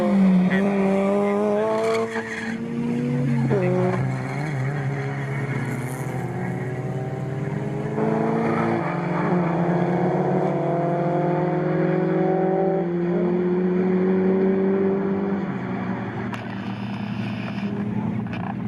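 Nissan 370Z race cars at a BRSCC Clubsport Trophy race at Snetterton roar through the final corner. Loud engine notes climb and overlap as several cars pass, with brief tyre squeal mixed into the continuous noise.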